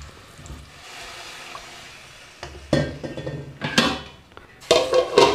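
Coconut milk and a spice mixture are poured into a pan while cooking a flaxseed and dill seed rice dish. Three close, wet splashing pours follow faint kitchen clatter, with no voices.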